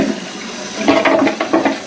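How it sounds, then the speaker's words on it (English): A newly installed toilet flushes at close range in a home bathroom, with water rushing and gurgling loudly as the tank empties into the bowl. No one speaks. "a flushing toilet."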